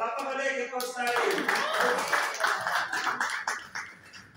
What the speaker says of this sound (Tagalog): Palakpak ulit kay Coach Larry.